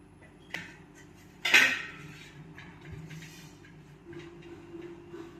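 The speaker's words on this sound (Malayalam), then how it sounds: "അപ്പം നമുക്ക് ആദ്യം തന്നെ ഈ കൊപ്പക്കായ നുറുക്കാം." A knife chopping raw papaya on a board: a couple of sharp close knocks, one heavier, then quieter scraping and handling sounds.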